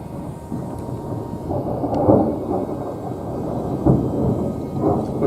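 A passing thunderstorm near a mountain, with deep rolling thunder rumbling continuously in the distance, swelling in several loud peaks over steady rain-like hiss.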